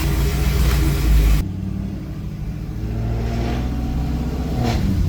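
A straight-piped Chevrolet Caprice PPV with Speed Engineering headers, an X-pipe and no mufflers rumbles loudly up close, with a heavy rev that drops to a deep, steady idle and then a couple of faint blips.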